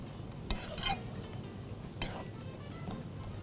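Lentil dumplings (bariyan) fry in oil in a pan under a quiet, steady sizzle, with a few sharp scrapes and clinks as a spoon stirs them.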